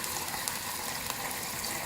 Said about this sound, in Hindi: साथ ही हम पानी शामिल कर देंगे।